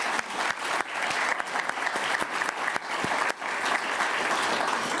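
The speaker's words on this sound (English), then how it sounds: "but first a thank you and applause to him." Symposium audience applauding the dean at a university oral health event, steady dense clapping from many hands sustained throughout, with a brief dip before it resumes at full strength.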